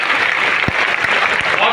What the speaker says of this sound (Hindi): अरे जोर से ताली बजाओ, क्या कर रहे हो?